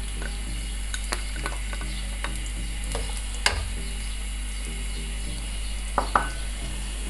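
One chopped onion sautés in about a cup of hot oil for a kidney bean curry: a steady, soft frying hiss over a low hum, with a few scattered clicks from a pan or utensil.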